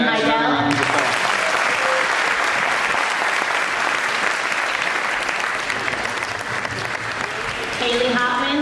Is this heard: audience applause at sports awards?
yes